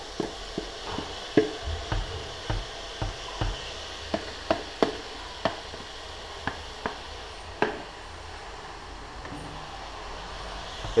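Beef and sliced pickles frying in a pan, a steady sizzle beneath a string of regular sharp clicks and taps from stirring, close and moderately loud.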